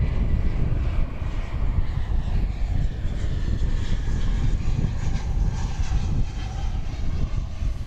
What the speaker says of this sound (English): we have American Flight 633 coming in from Phoenix. This will be an Airbus